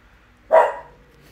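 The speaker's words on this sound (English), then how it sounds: "Oh, my puppy's woofing." A single sharp dog bark rings out nearby, short and loud against a quiet room.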